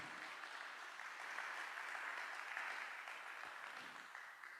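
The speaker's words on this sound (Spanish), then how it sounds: "Dele ahí un fuerte aplauso al Señor, por favor." A church congregation applauds in a sustained, even round of clapping heard from a distance, faint and steady from start to finish.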